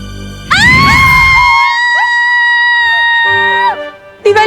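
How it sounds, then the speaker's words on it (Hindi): A woman lets out a long, shrill, sustained scream that wavers in pitch for about three seconds, loud and close, before breaking off, followed by a brief new vocal outburst. "क्यों चिल्ला रही हैं आप?"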